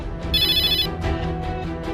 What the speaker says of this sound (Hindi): ये किसका फोन बज गया?